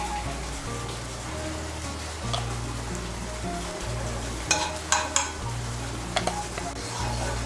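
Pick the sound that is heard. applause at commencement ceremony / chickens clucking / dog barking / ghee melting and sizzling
ghee melting and sizzling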